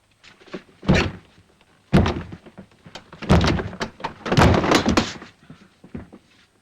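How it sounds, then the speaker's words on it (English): A wooden door is forced in a 1945 period drama, with a series of heavy, close thuds and bangs arriving in uneven bursts of loud impacts and rattling, with no voices. "Can you break down the door?"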